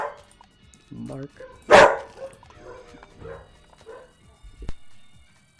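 A dog barks in a few short bursts, one loud bark standing out, mixed with yips and whimpers amid a man's speech and household noise, in a home at Halloween time.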